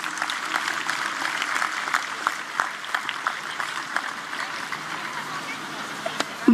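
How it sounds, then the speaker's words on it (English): A school audience applauds teachers at a school event, a steady wash of clapping at moderate level that runs for several seconds and fades slightly near the end. "Let us give a big round of applause to our teachers."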